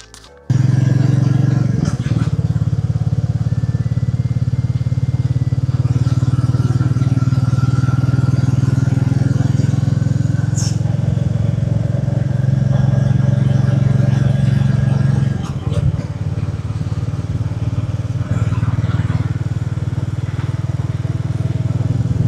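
A motorbike ridden near the Kondapochamma Sagar reservoir in Telangana, its engine running hot and shaking, gives a loud, steady drone that continues without a break for over twenty seconds.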